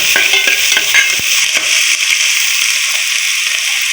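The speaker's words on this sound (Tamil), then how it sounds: "இது கூட கருவேப்பிலை கொத்தமல்லியும் சேர்த்து நல்லா வதக்கிப்போம்." Onions sauté in hot oil with curry leaves and coriander for a country chicken curry. A loud, bright sizzle crackles throughout, with sharp pops and spatula stirring strokes near the start. No voices are heard.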